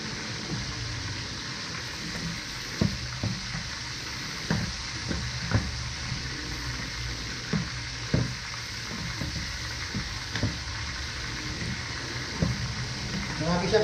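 Beef frying in a pan with cooked garlic and onion, a steady sizzle under periodic scraping and stirring clanks, close and fairly quiet, with a voice speaking over it.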